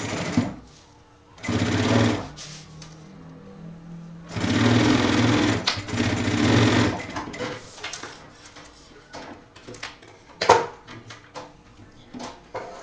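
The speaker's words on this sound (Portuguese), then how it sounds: "Como já é uma costura definitiva, então já pode costurar normal, sem ser a de segurança." A sewing machine runs straight stitches along a backpack seam in a men's bag with a separate shoe compartment, loud close-up bursts of motor whir separated by short pauses, followed by clinks and handling noises of fabric and parts.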